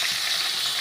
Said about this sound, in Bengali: মাছের মাথাটা ভাজা হচ্ছে, তোমরা দেখো